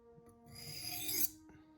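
A MagnaCut steel knife edge drawn lightly across a sharpening stone to remove the burr, a single soft, close rasping stroke swelling over about a second, then fading.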